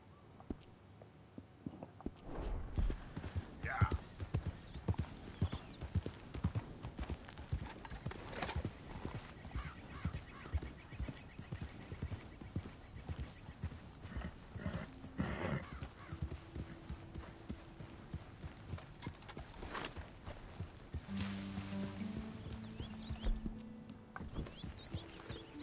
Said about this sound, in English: My horse breathed, apparently.